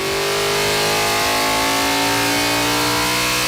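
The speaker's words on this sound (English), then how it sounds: "The Holden V8 engine" Holden V8 engine running loud and close, a steady throaty drone with slight rises in pitch as it revs, no voices over it.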